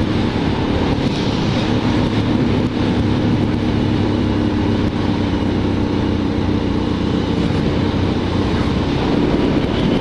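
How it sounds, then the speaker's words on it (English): Supermoto motorcycle passing on a twisty lakeside road, heard within constant loud wind and engine roar from the rider's own bike, with no clear separate pass standing out. "That was a motard. It just passed me."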